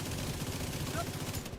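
Rapid automatic gunfire from The Division video game rattles in dense, continuous bursts, somewhat muffled within the game mix.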